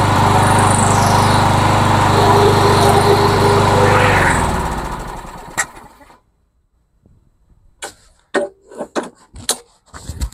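An old, trashed lawnmower engine runs loud and close, then winds down and stops. Clanks and knocks of handling follow.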